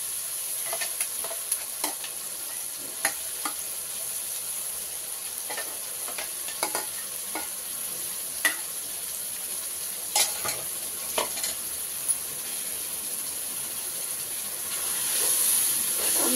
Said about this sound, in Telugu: మసాలా వేసినాక బాగా వేగాలండి.